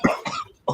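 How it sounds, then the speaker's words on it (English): Close, loud coughing right after a smoke, three harsh bursts with a short pause before the last, no talk. "you gonna make me cough,"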